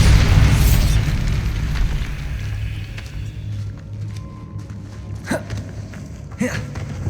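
A Bombarda spell explosion in the video game Hogwarts Legacy gives a loud, booming blast at the start that rumbles into a low tail, followed later by a couple of sharper pops.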